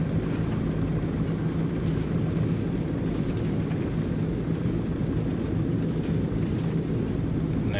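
Engines of a Transall C-160 aircraft in flight drone steadily, a constant low propeller-turbine hum with a faint high whine, unbroken and fairly close, with no talking.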